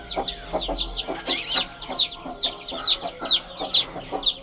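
Chickens cluck repeatedly in a lively farmyard flock, hens and chicks calling over one another in quick, overlapping bursts, with a brief rustling flurry partway through.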